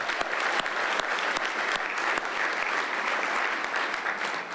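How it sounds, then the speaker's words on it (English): An audience claps steadily at an economic development announcement in Roanoke, Virginia, a dense, continuous applause that holds at an even level throughout with no one speaking. "You can definitely applaud that."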